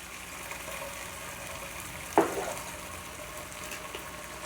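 Chili sauce poured into a hot pan for gobi Manchurian gives one sudden sizzling burst that fades quickly over a faint steady background hiss.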